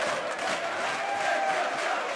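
Wrestling crowd roaring in sustained, even cheer for their favourite over a heavier champion, a dense wash of voices and applause from a large audience with no pauses across the whole stretch.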